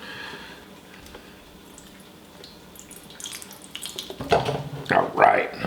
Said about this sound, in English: tilt this pan and pour off any of the excess fat